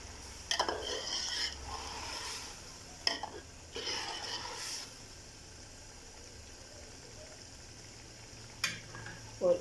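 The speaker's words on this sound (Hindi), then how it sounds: "अब इसमें मैं डालने लगी हूँ 1 किलो गोश्त उबला हुआ" Boiled meat, a kilo, goes into a pot of fried tomatoes and is stirred: a few scraping, clattering bursts of spoon against pot with faint sizzling between, no talking.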